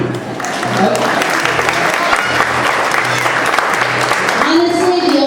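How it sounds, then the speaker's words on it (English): Audience applause fills the room in a sustained, even wash of clapping, with voices and a faint tonal hum underneath. "You can clap for that now."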